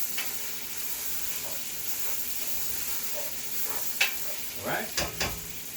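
Okra frying in a pan for a seafood stew, with a steady hiss of sizzling and a few scraping stirs of a utensil near the end, and a single brief word spoken over it.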